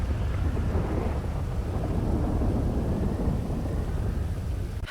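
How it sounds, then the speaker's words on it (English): Steady heavy rain with rumbling thunder in a GTA roleplay game, a continuous dense wash of rainfall and low rolling rumble throughout, loud and close with no talking. "This fucking rain is getting on my MDW and making everything blurry."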